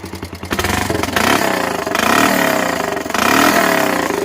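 A Honda 300EX ATV with a fully straight-piped exhaust runs loud and close, its rough engine note surging through repeated revs with a clattery edge and no pauses.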